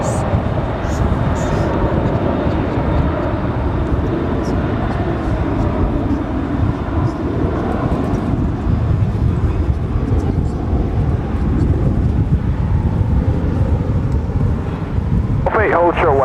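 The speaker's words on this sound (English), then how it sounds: "here the Qantas Dreamliner on her way in" A Qantas Boeing 787 Dreamliner lands at DFW airport with a loud, sustained engine roar and some wind buffeting, while a person talks over it.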